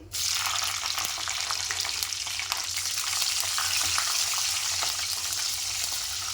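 Long-cut green chillies and two bay leaves fry in hot oil, a loud, dense, even sizzle that starts abruptly and holds steady throughout, close and without talk.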